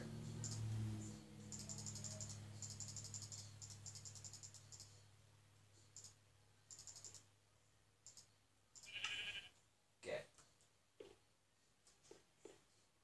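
Sheep bleat in the Minecraft video game, a few short bleats standing out over quiet clicking and game ambience, with no talk.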